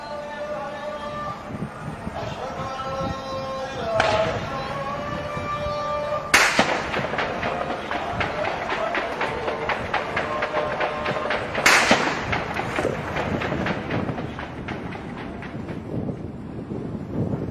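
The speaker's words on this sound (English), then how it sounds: "That's anti-aircraft fire" Anti-aircraft gunfire during fighting between government troops and insurgents in Mogadishu, heard as repeated sharp cracks and heavier thumps, with two loud bursts standing out over a steady background of rapid popping.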